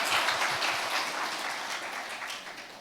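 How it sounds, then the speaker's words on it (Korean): Church congregation breaks into steady applause during a sermon, a continuous wash of clapping heard on its own that fades slightly toward the end. "와 박수 진짜."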